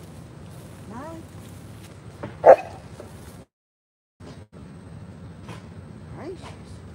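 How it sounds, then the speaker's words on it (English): Dog heard from a road trip outside, a few short yips and whimpers mixed with voices and scuffling, with one sharper bark in the middle and a brief silence. "There's a dog there, ain't it?"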